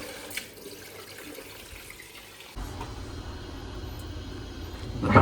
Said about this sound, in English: Watch what happens when we open the kitchen sink tap.